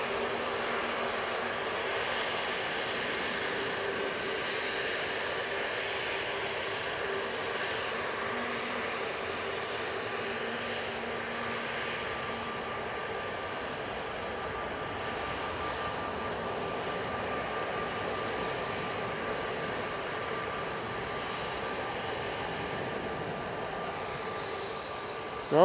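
Jet2 airliner departing Manchester Airport on a damp day, a continuous broad engine roar heard from a distance, steady and even throughout with no talk.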